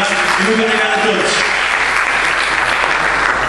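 Loud, sustained audience applause fills a conference hall after a beatbox performance, a dense, even roar of clapping with cheering voices mixed in at the start.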